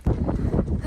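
Strong wind buffets the microphone in gusty bursts on an exposed mountain trail after a passing hailstorm, with low rumbling roars from close up.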